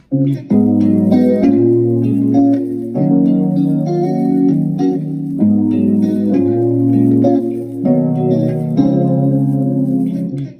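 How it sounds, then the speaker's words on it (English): Electric guitar layered with a Slate Digital Anna 2 synthesizer, playing a sustained, chord-rich melody with heavy effects and reverb; loud and continuous, with brief dips between phrases and no talking. "So together, the guitar and the synth sound like this."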